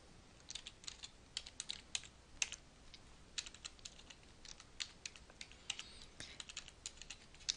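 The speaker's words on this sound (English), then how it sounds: "And then we're going to type in our username." Rapid, irregular keystrokes on a computer keyboard as a username is typed, crisp clicks in quick bursts with short pauses, fairly quiet and close, with no talking.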